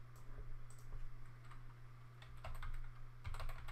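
Keystrokes on a computer keyboard as a telnet command is entered at a command prompt, a steady run of light clicks with a few denser bursts over a constant low hum, no talking.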